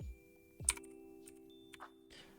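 Python turtle code being typed on a computer keyboard: a few sparse, faint keystroke clicks spread over a couple of seconds above a steady low background hum, with no talking.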